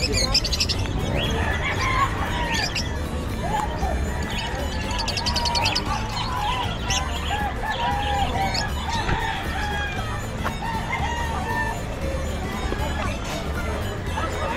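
Caged birds, lovebirds among them, at a busy outdoor pet market: continuous chirping and clucking, with a rooster crowing, under people talking throughout.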